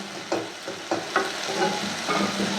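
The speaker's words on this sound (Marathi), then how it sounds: "आता यात आपण या उकडलेल्या भाज्या टाकणार आहोत" Boiled vegetables going into a pan of frying pav bhaji masala, giving a steady close sizzle with several sharp scraping stirs of a spoon against the pan and no voices.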